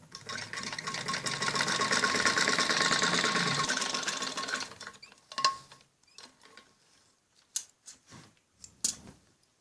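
A sewing machine runs a steady, fast burst of long basting stitches around a kameez back neck for about four seconds, then stops, followed by scattered clicks and handling of fabric and parts.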